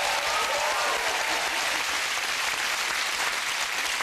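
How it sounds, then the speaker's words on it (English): A studio audience at a family game show gives full, steady applause, a thick uninterrupted roar of clapping. "Give them a big round of applause."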